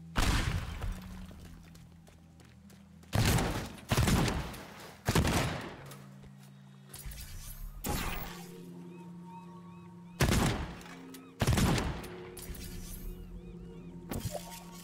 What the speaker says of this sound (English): Then we chuck a pipe bomb at that.